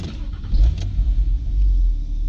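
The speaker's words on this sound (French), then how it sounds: "C'est marrant, le démarreur il tourne beaucoup plus vite" Starter motor cranking the engine of a Porsche 997.2 Carrera S Cabriolet with PDK, a brief whirring crank followed by low rumbling bursts as the engine catches, close and loud.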